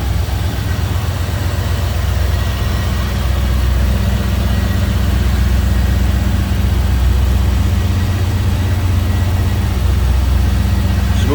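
A 1988 Chevrolet Camaro IROC-Z convertible with its 5-liter tuned port injection V8 idling smoothly, a steady, even low rumble held close and loud throughout with no talk.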